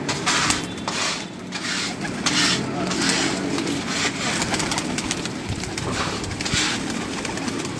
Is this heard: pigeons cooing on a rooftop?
yes